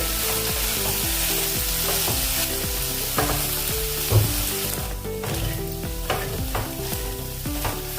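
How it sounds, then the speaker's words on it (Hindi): Soybean mixture roasting and being stirred in a pan for soybean rolls, a steady close sizzle with repeated spoon scrapes and knocks against the pan throughout. "5-7 मिनट इसको हम भूनेंगे"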